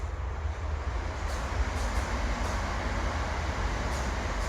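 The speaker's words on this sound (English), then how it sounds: "There's a lot of trains here. This is the main line which passes through between uh, Norbury and London Victoria." A train runs along the main line between Norbury and London Victoria in south-west London as a steady, broad rumble that holds evenly throughout, with faint higher rail sounds now and then and no voices.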